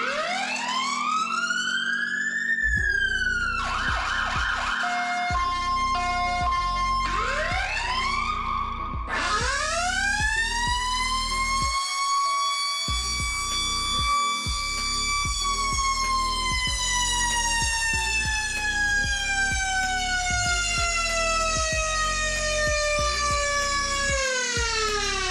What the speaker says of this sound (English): And we can do a siren.